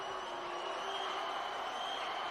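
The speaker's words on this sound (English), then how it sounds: "The crowd, now everybody in the building is shouting go every time she takes a stroke." A crowd at an indoor swimming meet roars continuously, cheering and shouting for a swimmer in a close, busy wash of voices.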